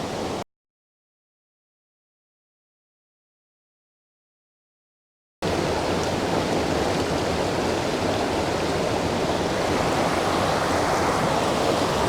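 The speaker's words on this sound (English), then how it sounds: "the sound of the water isn't doing me any favours whatsoever" Falls of Rha waterfall on the Isle of Skye: a brief stretch of rushing water cuts to silence for several seconds, then returns as a loud, steady, broadband roar of tumbling water heard close up.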